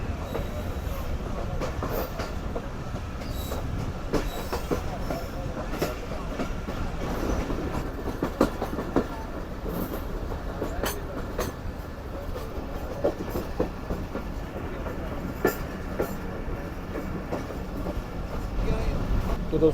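The Karakoram Express rolls along the main line beyond Ludhiana junction, with a loud continuous rumble and rhythmic clicking wheels heard from on board.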